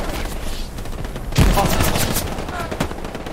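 Rapid bursts of automatic gunfire with sharp individual shots, loud and close, in the game Hell Let Loose.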